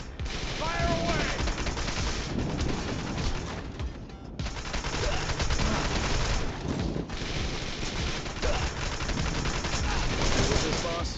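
Sustained gunfire in a war video game, dense continuous bursts of rapid shots and explosions with a brief lull, loud and close, with voices calling out amid the shooting.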